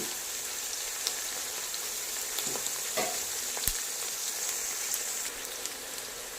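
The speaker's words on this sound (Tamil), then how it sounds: "இதை நல்லா கிளறி விட்டுக்கலாம். இது நல்லா வதங்கி வரட்டும்." Onions and curry leaves sauté in a pan for a pomfret fish curry, giving a steady crackling sizzle like light rain, broken by occasional scrapes and clicks of a spoon stirring, close and continuous, with no talking.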